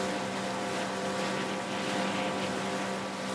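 A steady motorboat engine in the video game Far Cry 5 drones continuously at a constant pitch, loud and close, with no talking over it.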